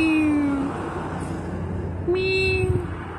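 A cat meows twice, close and clear, with a drawn-out first call and a second after a pause, over steady traffic hum and background noise.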